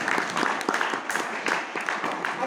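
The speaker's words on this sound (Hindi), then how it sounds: "तो एक बार जोरदार तालियां इन नारों के लिए भी" Student audience at a university hostel anti-drug campaign event applauds the slogans, with a short stretch of rhythmic, moderately loud crowd clapping.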